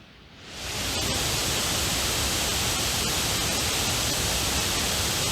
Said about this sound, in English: if you want to know what the max fan speed sound like